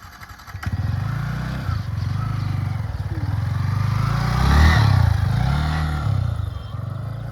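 A Yamaha MT15 motorcycle with a modified setup rides along, its engine droning steadily and close throughout with small rises in revs and a brief surge near the middle, no talk over it.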